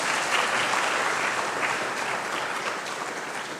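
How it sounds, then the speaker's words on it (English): Conference attendees give the translators a round of applause, dense, close clapping from a large audience that stays strong and steady throughout, fading slightly at the end. "Perhaps we have an applause for them."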